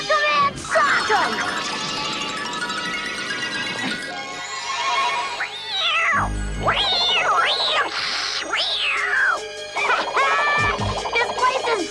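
A cartoon cat meows and caterwauls in a run of rising and falling yowls, loud and close, mixed with crashes and a horse-like whinny amid busy animated sound effects.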